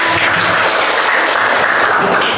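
Students in a classroom clap after a group presentation on bank products, a loud, close, steady burst of applause lasting a couple of seconds.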